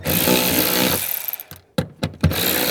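A 10 mm ratchet and socket loosens the bolts on the fuel pump access panel of a Toyota Corolla that cranks but will not start. A steady mechanical whir gives way to a few sharp separate clicks and knocks.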